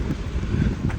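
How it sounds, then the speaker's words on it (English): Strong wind at a beach boat ramp, a loud close rumble buffeting the microphone with gusty low noise throughout a brief moment. "it's very windy"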